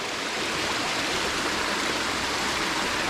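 Creek water flows steadily at the junction of Western and Surveyors Creeks, a continuous close rushing wash with no break and no voices.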